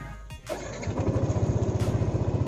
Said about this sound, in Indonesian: Tapi kalau saya starter, coba saya starter ya.